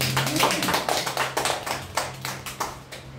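A church congregation gives a short burst of clapping, a series of quick claps with uneven rhythm over a faint low hum, without clear speech on top.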